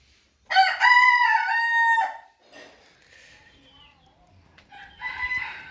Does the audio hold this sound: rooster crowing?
yes